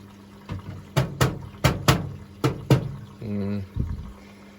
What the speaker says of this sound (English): That's the water coming in, so that's good.